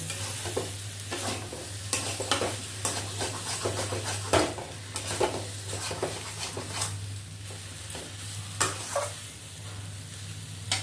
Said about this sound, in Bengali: এর মধ্যে আমি ধনে পাতা কুচি দিয়ে আবার নাড়াচাড়া করবো।